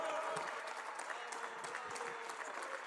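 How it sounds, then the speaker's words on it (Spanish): Applause in a senate chamber during a senator's speech, a steady wash of clapping hands filling the room for about three seconds with no pauses. "No quiero aplausos"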